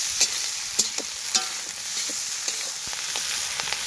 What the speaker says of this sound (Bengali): আমি লাস্টে এবার টমেটোটা ভেজে নেব।